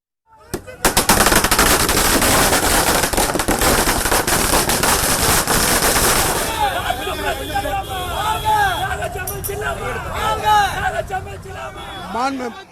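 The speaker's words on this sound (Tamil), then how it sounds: "அத்தொகுதி கழக நிர்வாகிகளும் தொண்டர்களும் பட்டாசு வெடித்து" Political party workers set off a long string of firecrackers at a celebration, producing rapid, dense crackling bursts that give way to scattered pops amid a noisy crowd and chatter.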